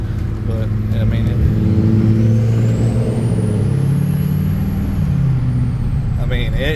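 An LBZ Duramax diesel pickup with a stage 2 66mm billet turbo pulling hard at light throttle, heard from inside as a loud, rising engine drone with a climbing turbo whistle and talk over it.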